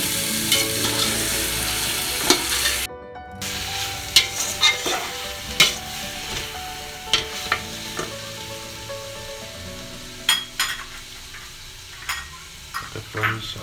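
Tomatoes stirred in a pot of frying beef biryani base give a close, continuous sizzle, with irregular scraping and clinking strokes of the spoon throughout and one brief silent gap.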